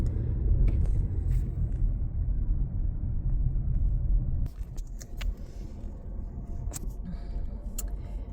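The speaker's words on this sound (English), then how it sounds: "Just driving around" A car drives slowly through a residential area of small houses, giving a steady low road rumble with faint rattles and jingling inside the cabin; the rumble eases slightly partway through, then continues evenly.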